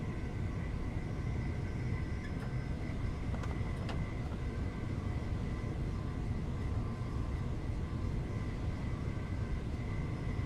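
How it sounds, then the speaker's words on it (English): A commuter train in the London Commuter game rumbles with a steady, loud, jet-like roar and hiss that holds without a break throughout. "this train sounds almost like a jet"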